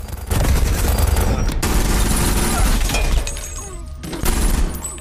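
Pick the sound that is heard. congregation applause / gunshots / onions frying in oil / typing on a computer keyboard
gunshots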